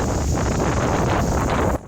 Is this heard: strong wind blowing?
yes